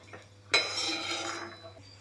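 Freshly roasted green pigeon pea kernels scraped from a pan onto a plate after the gas is switched off: a sudden metallic clatter and rattle of beans against metal, settling into a softer, steady scraping for about a second and a half.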